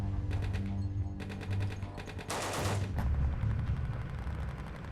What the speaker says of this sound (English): the Branch Davidians respond with a barrage of gunfire